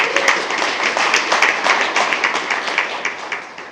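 Steady applause from attendees at a school board meeting, many hands clapping in a dense, fairly loud patter that continues throughout and slowly thins toward the end.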